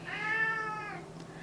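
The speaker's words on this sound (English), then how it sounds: "Mickey, that is my Russian blue cat yelling at you guys" A Russian Blue cat lets out one drawn-out, insistent meow close by, clear and steady for about a second before it tails off, with no other sound over it.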